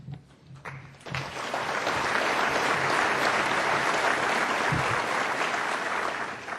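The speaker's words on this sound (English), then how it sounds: "Please join me in applauding and thanking our panel for doing such a great job at such a tricky task." Audience at a panel event breaking into applause, hand claps swelling after a second into a full, sustained ovation that holds steady to the end.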